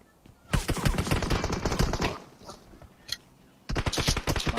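Rapid automatic gunfire in a video game crackles in dense bursts, pausing briefly with a couple of isolated shots before another burst, with faint talk behind.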